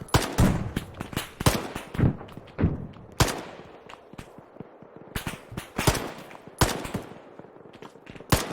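Arma 3 gunfire rings out in loud, sharp bursts and single shots, some close and some more distant, spaced irregularly across the whole stretch with brief echoing tails.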